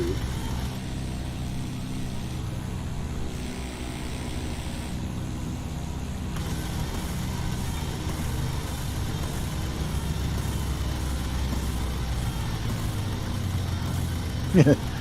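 A steady airplane engine drone in a flight simulator game, idling low and continuous as it winds down at slow speed, with a brief louder knock near the end.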